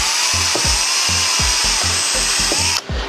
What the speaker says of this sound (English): Drill bit, get underneath and drill out the center of the hole.